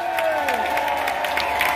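An evening crowd in an Irpinian town square at Salza Irpina claps and cheers for a comedian's band, with dense, continuous applause and scattered whoops throughout.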